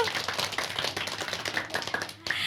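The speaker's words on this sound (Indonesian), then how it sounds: "beri tepuk tangan dulu untuk Dinar" A group of children at an Indonesian elementary school program clap in quick, irregular bursts, moderately loud and fairly close, with a brief dip near the end.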